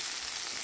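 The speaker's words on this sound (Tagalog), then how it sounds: "Paghalo-haloin ulit." A short burst of steady, bright frying sizzle as tomatoes and egg are stirred in a hot pan, close and even with no talk.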